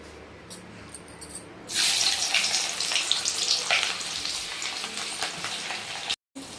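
Bitter gourd chips dropped into hot oil: after some quiet clinks, a loud, bubbling deep-fry sizzle surges up and carries on steadily, close by, cut briefly by a short gap near the end.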